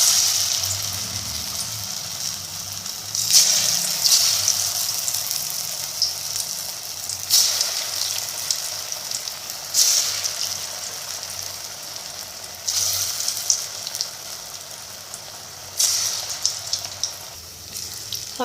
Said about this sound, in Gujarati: આ રીતે થોડું ખીરું હાથમાં લઈશું અને તેલમાં ઉમેરીશું।